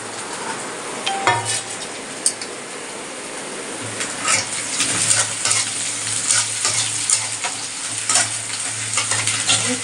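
Eggs fry in a thin tin wok with a constant sizzle, while a utensil repeatedly scrapes and taps against the metal as they are stirred.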